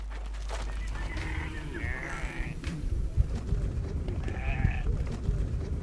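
Red Maasai sheep bleat twice, wavering calls over a busy livestock background with low rumbling and scattered hoof-like knocks, while a voice is faintly present.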